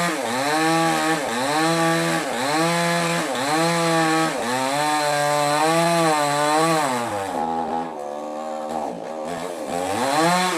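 A mini chainsaw cuts wood up in a tree, its engine buzzing loud and steady, rising and dipping in pitch as the load changes, then briefly easing off near the end before picking up again.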